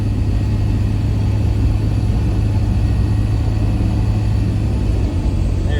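A salvaged 3rd gen Cummins truck with a new transmission drives along under throttle. Its engine holds a steady, close, droning rumble with no clear break at the shift into overdrive.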